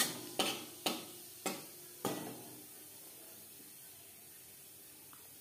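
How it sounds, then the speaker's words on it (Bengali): Whole cumin seeds drop into hot oil left from frying fish, giving four sharp crackling pops in the first two seconds over a steady low sizzle that fades afterward. "মাছ ভেজে নেওয়া তেলে ফোড়নে দিয়ে দিলাম গোটা জিরে।"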